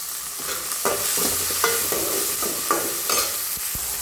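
Vegetables sauté in a hot pan with salt for a sundakkai sambar, a continuous sizzle broken by repeated scraping stirs of a spoon against the pan, close up and with no voices.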